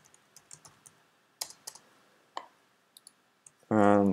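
Computer mouse clicks during work in Hyperworks 12 engineering software: a scattered series of sharp, close, quiet clicks at an irregular pace, followed by a brief loud tonal sound at the very end.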